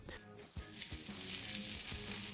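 Clarified butter and a beef burger patty for the Coyote Bluff Cafe Burger From Hell sizzle and fry on a hot griddle, a steady close hiss with a few soft scraping clicks.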